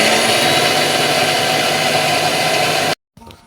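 Electric grinder churning soaked lentils into batter for dahi vada, a loud steady whirring hum that runs continuously and then cuts off abruptly, followed by a brief quieter clatter.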